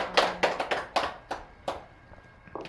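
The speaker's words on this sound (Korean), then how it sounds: "네, 박수입니다" Scattered audience clapping at a meditation talk, a handful of distinct sharp claps in an uneven rhythm that fade out after a couple of seconds.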